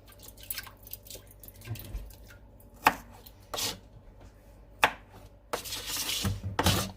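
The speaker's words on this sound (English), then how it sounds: "we're also going to chop up another onion, but we're going to cut small" An onion being cut into small pieces on a board, with a few sharp, irregular knife knocks and softer scraping between quiet pauses, close by, with faint dripping water in the background.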